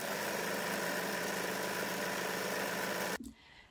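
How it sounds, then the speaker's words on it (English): A sewing machine stitches along the top of folded fabric to form a gather, giving a steady, close motor whir that stops abruptly near the end. "So I'm going to fold that fabric in half and I'm going to sew along the top."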